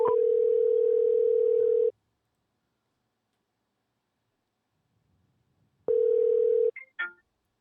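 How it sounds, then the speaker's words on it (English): Steady telephone dial tone on a phone being used to place a call, holding for about two seconds, then a long silence before the tone returns briefly and ends in a few sharp clicks. "we'll call him, see if my phone works"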